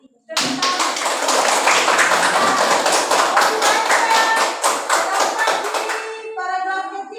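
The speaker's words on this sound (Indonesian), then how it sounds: "Ya, tepuk tangan." Classroom hands clapping during a school lesson, a dense run of sharp claps lasting several seconds, steady and loud, thinning out toward the end as a voice begins.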